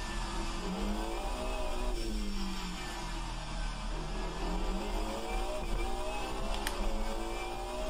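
A 1991 DTM touring race car engine in the driving simulator rFactor 2 drones steadily at moderate level, with faint rises in pitch and a brief squeal of tires, and no voices.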